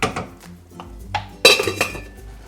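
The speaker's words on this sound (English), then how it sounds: "I'm going to put the lid on this for a few minutes" A metal lid set onto a pot of cooking strawberries, a few light clanks and taps followed by a sharper clatter as it settles, close and fairly quiet.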